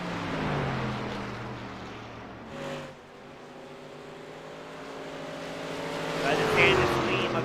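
Race trucks run on pit road in a PC racing game at Phoenix, engines droning and shifting pitch as they slow and pass, with a commentator talking over the steady motor noise.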